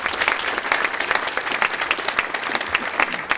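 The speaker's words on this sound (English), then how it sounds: "So if everybody could just give them a quick round of applause." Applause from the audience at a conference on foreign policy trends, dense and even clapping from a large crowd sustained at full strength throughout, with no voices over it.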